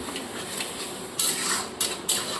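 Spice paste and tomato paste stir-fried in a pan for matar paneer: a steady close sizzle, broken by three louder scraping strokes of a spatula against the pan toward the end.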